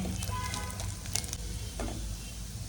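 Garlic frying in butter on a low flame gives a soft, steady sizzle with faint crackles and pops throughout, close by, with no talking.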